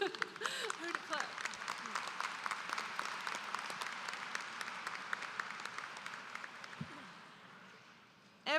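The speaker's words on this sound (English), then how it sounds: "You can clap at that if you want to." Applause from a high school commencement crowd, a broad, steady clatter of many hands that holds for several seconds before fading, with a voice speaking briefly at the start.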